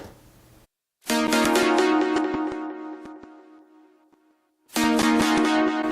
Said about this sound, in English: It's a plucky style lead.